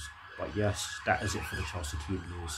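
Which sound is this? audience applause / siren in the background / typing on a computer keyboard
siren in the background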